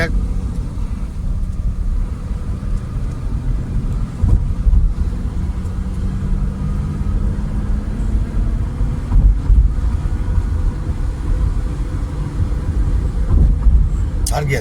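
A new car drives over a bridge on a foggy day in third gear, a steady, close road-and-engine rumble with wind buffeting the microphone throughout, while people talk over it.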